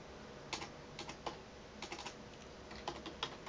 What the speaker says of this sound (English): I'm typing gmail.com